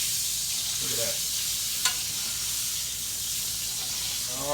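Green tomatoes and yellow squash fry in a cast iron skillet with a steady, loud broadband sizzle throughout, a brief sharper crackle midway and faint clinks of a utensil near the start and end.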